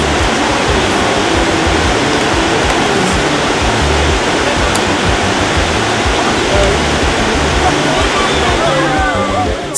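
The Nkomkam waterfall in Cameroon roars loud and close from below, a dense, unbroken rushing wash of falling water throughout.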